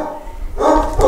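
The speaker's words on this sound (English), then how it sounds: "Excuse my dogs barking in the background." Dogs barking in the background at home, with a couple of short, fairly loud barks in quick succession.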